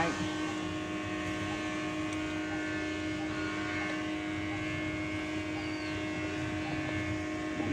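The air conditioner blower of a Mercedes-Benz W210 runs with a steady whooshing hum and a tonal drone inside the car, which has a fault where no air comes from the center vents. The sound is constant and unbroken throughout.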